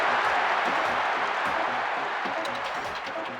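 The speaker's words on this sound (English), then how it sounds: "their fans who are cheering them to the hilt here" A stadium crowd in the PES 6 football game cheers and roars as a loud, steady wash of sound that eases off only slightly over a few seconds.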